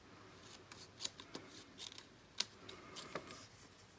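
Scissors snip through paper to make a festive table place card with a small chocolate box, giving a close, irregular run of sharp cuts with short pauses between them and no talking.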